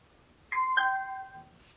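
A DistraKted waterproof Bluetooth speaker powers on with a short electronic chime of two bright ding tones, the second held and fading, alone in a quiet room.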